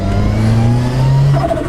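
A Ford Sierra estate with a 500 bhp Cosworth engine revs briefly, a loud rising engine tone with gearbox whine, heard close and alone for under two seconds.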